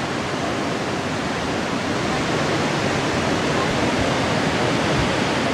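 Iguazu Falls in Argentina thunders in a steady, dense roar of falling water that fills the whole stretch without a break, close and loud with no voices.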